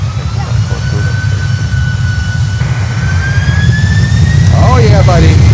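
A heavy cargo jet takes off from runway 9 at Miami, a deep steady roar with a slowly rising turbine whine that grows louder toward the end, where a voice briefly speaks over it.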